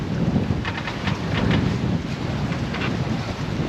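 Strong 30-knot wind roars across a microphone on a sailboat under grey, cold skies, a continuous loud buffeting rush with gusty surges and no voices.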